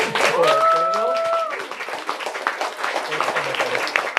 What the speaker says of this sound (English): please join me in giving 2 rounds of applause on this time.